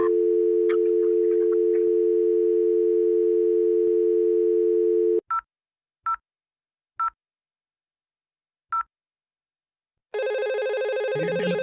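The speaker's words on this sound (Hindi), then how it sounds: "टेलीफोन नंबर बजने भी लगा" A steady dial tone gives way to four separate keypad beeps, then silence, before a loud telephone ringing tone starts at the end.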